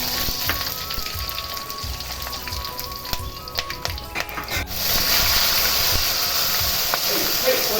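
Whole spices (fennel, cinnamon, cardamom, mace) hit hot oil in a pan for crab kurma: a quieter rustle first, then a loud, steady broadband sizzle that fills the second half.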